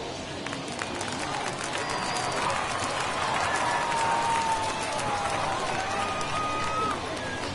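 A home crowd at a Triple-A baseball game reacts after a batter is hit by a pitch, sustained murmur and scattered clapping across the stands, with a commentator's voice over it.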